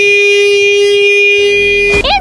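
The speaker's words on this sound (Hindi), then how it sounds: "सबसे पहले मैं मेरे बाइक का हॉर्न सुनाता हूँ" A single loud, steady motorcycle horn blares for about two seconds before cutting off abruptly.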